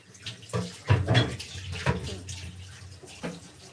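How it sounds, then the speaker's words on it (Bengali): Tap water runs over a bowl being washed, splashing and gurgling in uneven surges close by, with no voices. "আমি না ওই বাটিটা ধুয়ে নেবো"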